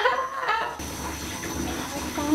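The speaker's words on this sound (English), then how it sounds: "take a shower. Is the water good?" Shower water runs steadily over a baby, a continuous close hiss of spray, with a brief voice at the start.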